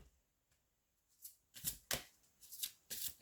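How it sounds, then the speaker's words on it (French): Tarot cards are shuffled and drawn in a few quick, crisp bursts of riffling and snapping, close and fairly quiet, with no talking. "je vais tirer encore 3 cartes"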